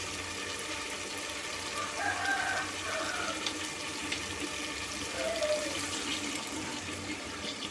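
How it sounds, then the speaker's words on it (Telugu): Water pours steadily into a simmering village-style dried fish curry in an outdoor cooking setting, a continuous splashing rush throughout, with faint bird calls in the background. "తగినంత వాటర్ అయితే పోసుకుందాం."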